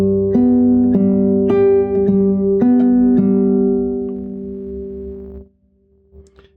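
Classical guitar plays a fingerpicked pattern from a Sagreras lesson: a series of clear plucked notes on separate strings, close and alone, which ring on and then fade out near the end.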